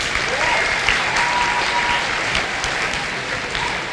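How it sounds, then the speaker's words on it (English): Students and guests at a school Blue Ribbon recognition ceremony clap loudly and steadily, a dense, continuous wash of applause filling the room. "Can you give yourselves another round of applause?"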